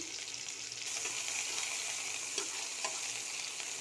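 Quiet, continuous sizzle of onions frying in a pan, with a few soft stirring scrapes near the end.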